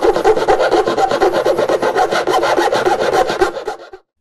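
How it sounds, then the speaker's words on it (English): Steady rasping strokes of a file worn against melted plastic bits on a Teknika monitor case, loud and close, rhythmic scraping for about four seconds before stopping abruptly. "break off these melted plastic bits and do a little bit of filing"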